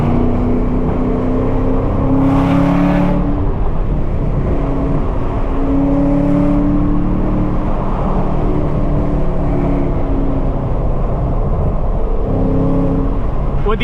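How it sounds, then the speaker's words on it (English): A 650 hp twin-turbo V8 Chevrolet Camaro ZL1 with automatic transmission and all-wheel drive accelerating hard, loud and close from inside, with repeated rising engine pulls broken by brief shift pauses and steady road roar throughout. "I mean, a twin turbo V8, the automatic transmission, the all-wheel drive."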